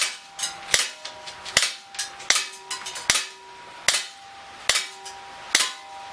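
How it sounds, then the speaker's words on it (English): An Umarex Smith & Wesson M&P R8 CO2 BB revolver fires in double action, eight sharp, snappy shots at a fairly quick, steady pace with faint clicks between them, close by and alone. "I am going to shoot in double action. I am crouched down, but it's kind of freestanding. I'm not resting it on anything. We're going to shoot 8 more rounds through here."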